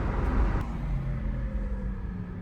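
Porsche Taycan 4S electric drive motor whining like a Dyson vacuum under steady low road rumble, a continuous near hum with faint tonal lines, no voices.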